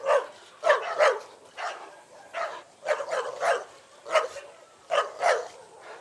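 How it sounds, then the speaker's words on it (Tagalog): Dogs bark repeatedly during a pack walk of giant Kangals and Alabais, a series of sharp, fairly close barks in irregular bursts with brief gaps between them. "Sa mga asong tahol ng tahol kapag kami ay dadaan"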